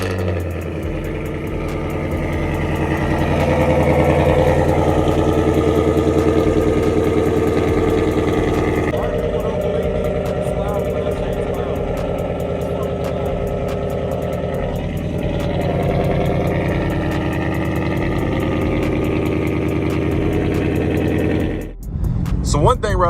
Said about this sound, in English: I'm gonna get you guys a cold start so you guys can hear this up close and personal.